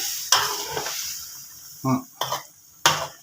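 Catfish and eggplant cook in a pan with a soft sizzle, punctuated by several sharp clinks and scrapes of a utensil against the pan, while a voice talks intermittently.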